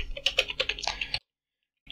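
Rapid computer keyboard typing of code, a quick run of close, crisp clicks lasting about a second, then silence and a final faint keystroke.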